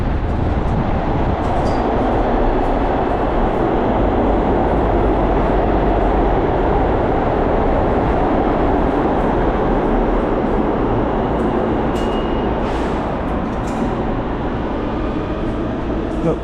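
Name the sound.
subway train arriving at a station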